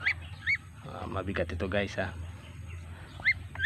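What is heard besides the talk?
young Muscovy duckling calling while being weighed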